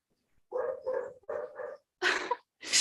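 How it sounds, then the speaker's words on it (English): Farm dogs barking: four short barks in a steady rhythm, then two harsher, noisier yaps, fairly close and loud against a quiet background. "they're like farm dogs, so they're like trained to like bark at anyone that comes close"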